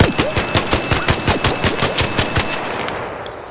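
The Bettina gun firing in a video game, a rapid automatic burst of about twenty loud, evenly spaced shots at close range that stops near the end, leaving a brief quiet tail.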